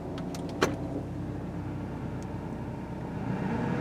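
A car idles while warming up in the snow, a quiet steady engine hum heard from inside with a few small clicks and knocks near the start.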